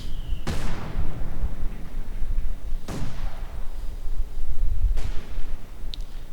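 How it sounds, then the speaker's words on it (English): Mortar fire in the real-time strategy game Company of Heroes 2: three loud booming impacts spaced a couple of seconds apart, each trailing into a rumbling decay over continuous battlefield noise. "Taking mortar fire. And a bit of mortar fire there."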